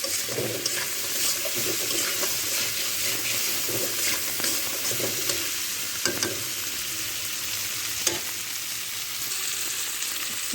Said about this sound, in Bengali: এবারে কাঁকড়া ভালোভাবে কষিয়ে নেব